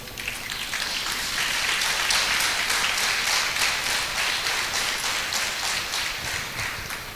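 An audience applauds steadily for about seven seconds, a dense wash of many hands clapping at even loudness without a break, then easing slightly at the end, with no voices over it.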